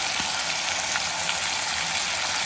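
Meat for plov fries over high heat, giving a dense, continuous sizzle and hiss of hot oil with no pauses, close and fairly loud.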